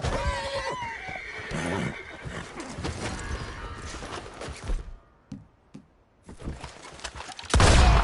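A horse neighs and whinnies in a PS4 video game, loud and close, with hooves clopping underneath and brief quieter gaps before a sudden loud burst at the end.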